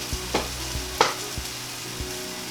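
A vegan pancake frying in a pan, a soft steady sizzle with faint scrapes and taps of a utensil, close and quiet, with no talking.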